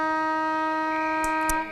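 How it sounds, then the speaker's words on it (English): A match-end siren at a country Australian rules football ground in the O&M league sounds as one sustained steady harmonic tone over crowd noise, with brief sharp bursts near the end before it fades. "And there is the siren to end a super first half of Norman's Oval."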